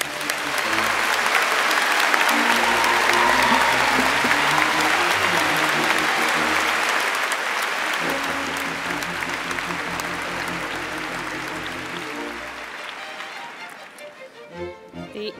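Sustained applause from a large audience at an engineering faculty graduation ceremony, dense clapping that swells, holds for several seconds, then thins out and fades toward the end.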